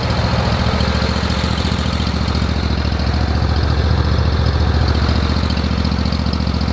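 A Scag Turf Tiger 2 zero-turn mower's engine runs steadily close by, a continuous even drone with a low throb, loud and alone without voices.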